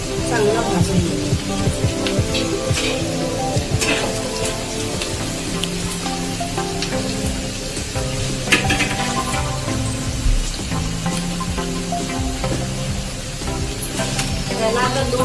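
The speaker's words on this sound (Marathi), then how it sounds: "आता कांदा भाजून घेण्यासाठी थोडंसं यामध्ये मीठ घालायचं, म्हणजे कांदा चांगला भाजून घ्यायचा" Onion fries with salt in a pan, giving a dense, continuous crackling sizzle with scattered pops, close and loud, while a person talks over it.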